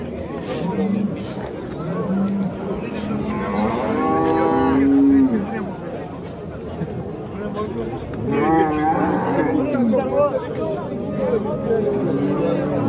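Cattle moo loudly and close at an Uzbek livestock bazaar, with two long drawn-out calls rising above a steady hubbub of voices and people talking nearby.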